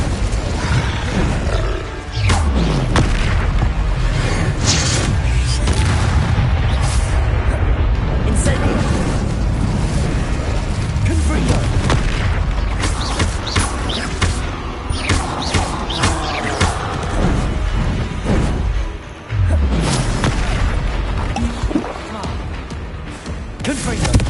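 Fire and explosion spells cast in the video game Hogwarts Legacy: loud, continuous roaring blasts and booming bursts fill the scene, with a voice calling out spell incantations between them.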